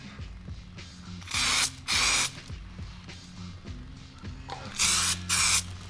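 A spray gun lays a light tack coat of Superwrap paint in four short hissing bursts, two near the start and two near the end, over a background of rhythmic mechanical clatter.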